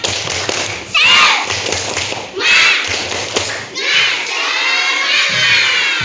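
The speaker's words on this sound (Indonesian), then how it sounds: "Tepuk semangat" A class of fourth-grade schoolchildren performs a rhythmic spirit clap together, bursts of sharp group claps and shouted chants close by, loud and energetic with voices mixed in.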